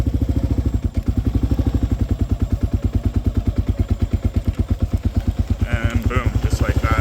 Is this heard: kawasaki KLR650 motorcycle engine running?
yes